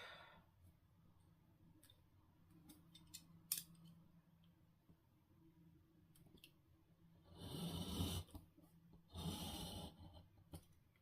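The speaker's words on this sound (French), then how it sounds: "on prend son petit cutter, sa petite règle et on coupe" A small craft knife drawn along a ruler slices through paper and card in a couple of raspy strokes near the end, after quieter handling clicks and rustles nearby.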